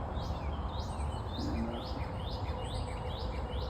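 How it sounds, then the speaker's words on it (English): Many wild birds near winter bird feeders in wooded surroundings chirp outdoors, with repeated short tweets in a steady, fairly quick rhythm, faint and distant over constant background hiss. "hear a lot of birds chirping today"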